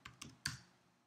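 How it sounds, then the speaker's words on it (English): A few quick computer keyboard keystrokes while entering a username and password at a website login, three soft close taps in quick succession. "Type our username and password."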